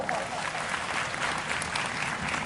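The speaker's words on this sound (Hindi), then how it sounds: "तालियों से बताओ" A crowd at a Ram katha gathering claps steadily in a brief, even burst of applause that fills the whole moment at moderate loudness.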